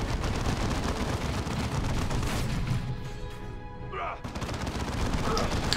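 Continuous gunfire and explosions from a Warhammer 40k Dawn of War II battle, a dense, loud barrage of shots and booms that runs almost without pause, with voices briefly heard under it.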